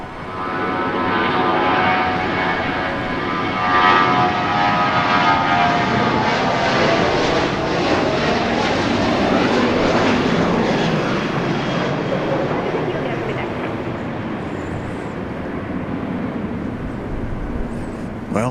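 A Southwest Airlines Boeing 737 at Dallas Love Field gives off a loud, sustained jet engine roar that stays steady and close throughout, with a faint voice in the background.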